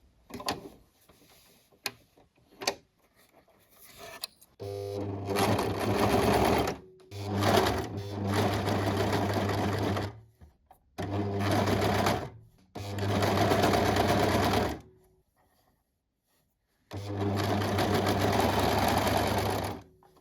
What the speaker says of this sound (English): I'm going to sew up the side seams. That's the last thing to do with the overlocker